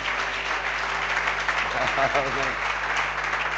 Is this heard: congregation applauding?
yes